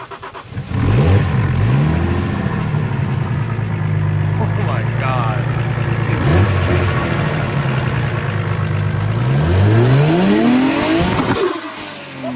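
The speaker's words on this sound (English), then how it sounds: "Definitely got to pop the hood so we can hear that turbo" Toyota Chaser with a large turbo, revved repeatedly with the hood open, giving loud rising and falling engine sweeps and turbo whine up close, while excited voices talk over it.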